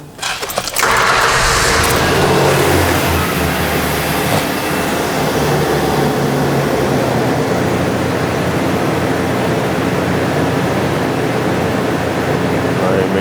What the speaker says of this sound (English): so now start vehicle engine